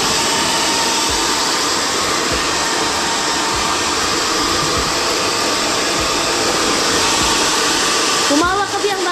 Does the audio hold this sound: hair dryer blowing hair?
yes